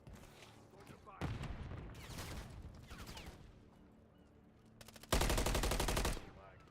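Gunfire in the video game Call of Duty: Modern Warfare 3, with bursts of automatic fire and loud rapid shots over background game sounds, ending in a strong sustained burst.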